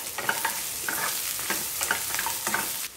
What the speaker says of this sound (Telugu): దీంట్లో ఒక దాల్చిన చెక్క, 2 యాలక్కాయలు, 3 లవంగాయలు వేసుకొని వేయించేసుకోండి వీటితో పాటు.